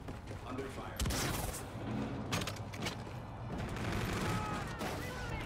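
Gunfire in Call of Duty: Infinite Warfare multiplayer crackles in scattered bursts and sharp reports, some near and some distant, mixed with game noise and faint voices.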